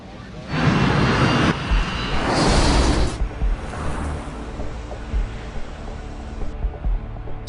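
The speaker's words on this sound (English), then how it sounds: "With the MD-87 now traveling at 260 kilometers an hour" An MD-87 jet airliner speeds down the runway at Linate Airport, a loud roaring engine rush that swells and then fades, with narration heard over it.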